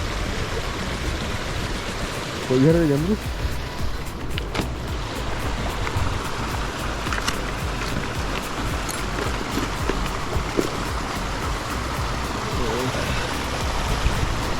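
Water falls and flows steadily at a natural bathing pool in Sri Lanka, a constant close rushing wash with a brief voice and occasional splashes over it.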